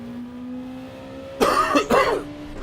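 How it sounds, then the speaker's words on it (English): A person coughs twice in quick succession, loud and close, over a faint steady background hum. "that cough is just killing my chest and throat."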